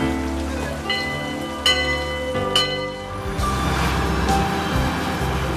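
Rain falls steadily outdoors, a dense patter of drops on surfaces mixed with faint tonal background sounds and occasional knocks.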